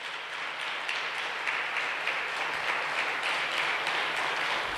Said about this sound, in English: I'd like to have a round of applause for all the candidates who exceeded